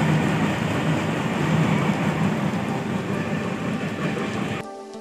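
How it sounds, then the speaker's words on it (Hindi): Train at a railway station in the early-morning dark, a steady rumbling roar with a dense rattling clatter, loud and close, fading abruptly near the end. "ट्रेन चढ़ने वाला हूं, अब आ ही रही है"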